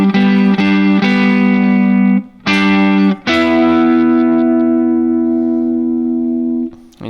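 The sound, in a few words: distorted electric guitar double stops, pointer and middle fingers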